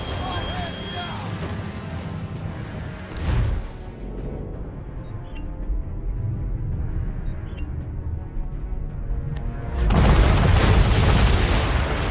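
Cannon fire from a sailing warship in Assassin's Creed 3, loading chain shot at sea: a heavy boom near the start, then a low rumble of water and creaking, and another loud broadside burst near the end.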